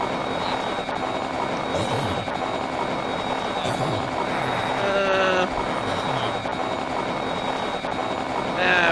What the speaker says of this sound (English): So again, tilt your helicopter around like this, get it to fly.